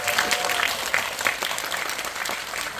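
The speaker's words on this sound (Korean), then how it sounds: "오늘 근데 박수 한번 부탁드리겠습니다" A cinema audience at a film's guest-visit screening at CGV Yongsan applauds, a brief, full wash of many hands clapping with no break.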